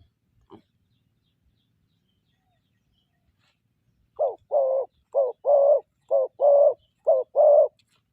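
Series of short cooing calls from a dove prized for its big voice, delivered in quick pairs with brief gaps, close and clear in otherwise quiet surroundings after a faint early click.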